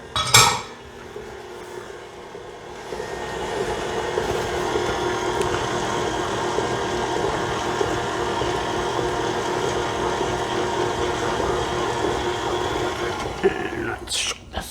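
A mixer creams sugar in a bowl with milk for a berry pie filling, making a steady whirring drone that runs for several seconds. Utensils clink against the bowl at the start and at the end.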